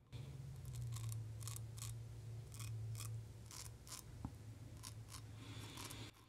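An expensive razor shaves hair on top of the head in a quiet series of short scraping strokes with brief gaps between them, close up. No one speaks.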